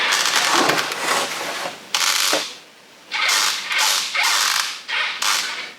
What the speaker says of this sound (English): Very creaky those hinges, I must say